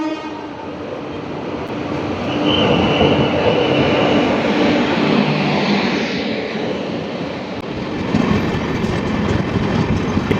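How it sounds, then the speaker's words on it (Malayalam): The Amrit Bharat Express rolls into Kollam Junction railway station with a loud, sustained rumble of wheels and carriages, a horn-like tone sounding early and the clatter building as it nears. "കൊല്ലം ജംഗ്ഷൻ റെയിൽവേ സ്റ്റേഷനിലേക്ക് അമൃത ഭാരത് എക്സ്പ്രസ് കടന്നു വരികയാണ്"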